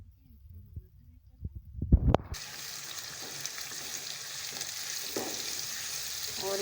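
A few soft knocks and thumps come first, then onions frying toward light brown for a chicken and vegetable curry break into a steady, close sizzle that continues evenly.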